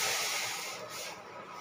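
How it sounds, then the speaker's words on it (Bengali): Water hits a hot wok with a loud steamy hiss that fades slowly as the sizzle settles, with no talking. "কড়াইয়ে দিয়ে দিলাম জল"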